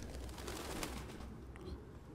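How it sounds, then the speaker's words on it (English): Doves coo in a grimy interior in the Detroit: Become Human video game, a low, soft, steady cooing murmur under a constant ambient hum, with no talking. "Lots of doves."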